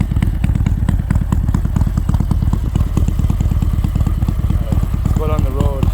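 A 2019 Harley-Davidson Road Glide with an SS 475 camshaft and Mutazu 2.0 slip-on exhaust idles loudly up close, a rapid, uneven lumpy thumping that runs steadily throughout.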